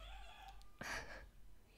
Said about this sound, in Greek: Γάτα, παιδιά.